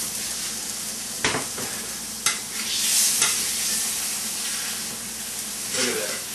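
Meat fries in a cast iron pan with a steady, close sizzling hiss, broken by a few sharp clatters of stirring or moving the food.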